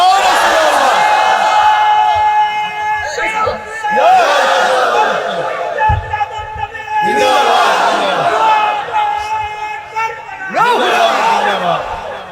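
A large crowd at an Islamic religious gathering shouts a slogan in loud, repeated collective bursts, roughly every three seconds, with brief pauses between the calls.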